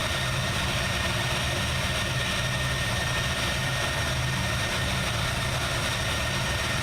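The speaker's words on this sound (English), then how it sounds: "the engine sounds were some of the best I've ever heard" The steady engine drone of a Fokker F28 jet airliner fills the whole stretch, a loud, even hum with a low rumble beneath and no voices.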